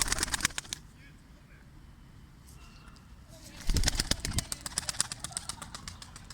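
Pigeon calls and wing sounds from a pair of Turkish tumbler pigeons, loudest at the start and again in a run of sharp, rhythmic bursts over the last few seconds, with quieter rustling in between.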